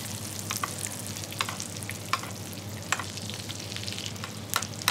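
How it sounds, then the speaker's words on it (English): Butter foaming around cod fillets in a frying pan as it is spooned back over the fish, a soft continuous sizzle with a low steady hum and a few sharp spoon taps on the pan, close with no talk. "And you're going to baste that butter."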